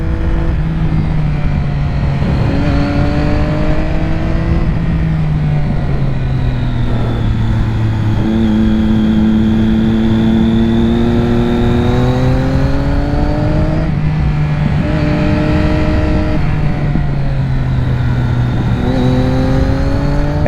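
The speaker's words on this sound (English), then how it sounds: "The engine braking on this bike is unbelievably good." A 2006 Triumph Daytona 675 motorcycle engine runs loud and continuous while riding, its pitch repeatedly sliding down as it engine brakes and then climbing again, close to the rider with steady rushing noise underneath.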